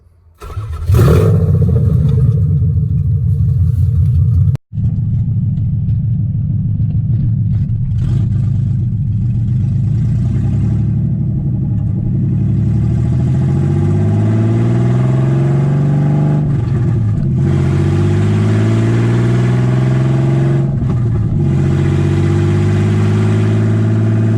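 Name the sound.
old car engine warming up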